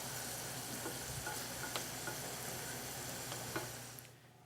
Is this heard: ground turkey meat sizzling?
yes